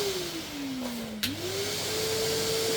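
A Henry Hoover vacuum cleaner drones steadily and close, its motor pitch dipping briefly with a soft bump before settling again.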